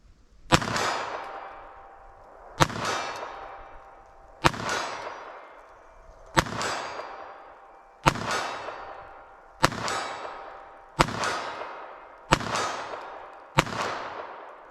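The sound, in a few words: pistol firing Aguila Interceptor .22 LR at steel target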